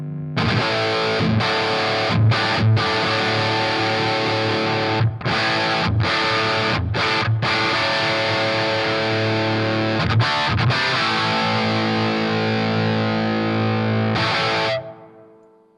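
Electric guitar through a Marshall Vintage Modern amp with the mid boost engaged, thick distorted chords and riffs with short choppy pauses, loud and up close, ending in a ringing decay.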